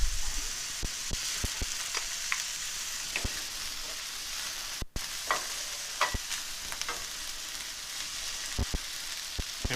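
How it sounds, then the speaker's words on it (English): Shiitake mushrooms simmer in a pan with a steady, close sizzle, broken by scattered crackles and short stirring scrapes. "We're going to let these simmer for, maybe another minute or so."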